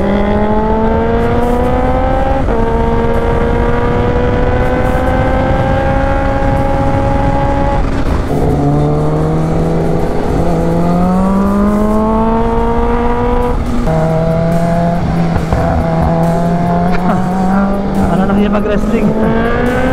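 A supercharged Kawasaki H2 motorcycle roars past with a loud, rising and falling engine note through repeated gear changes, close and dominant, while someone speaks briefly over it.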